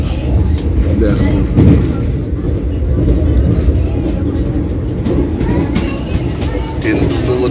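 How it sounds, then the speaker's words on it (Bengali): Inside a Puri–Howrah Vande Bharat Express at speed, a steady loud rumble and rolling rail noise run continuously, with faint rhythmic clatter and voices murmuring underneath. "ট্রেন দ্রুত গতিতে যাচ্ছে"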